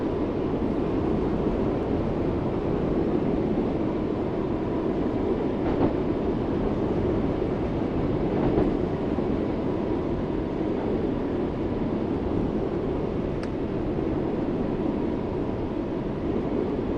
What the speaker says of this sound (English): These are the run sounds from the interior. They recorded it from inside the train.